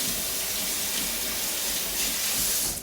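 A kitchen tap runs steadily to fill a drink of water, a continuous close hiss of flowing water with no voices, tapering off at the end.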